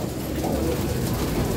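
Hen pigeons cooing in a fancier's loft, soft low throaty coos repeating over a steady background murmur, fairly close and continuous.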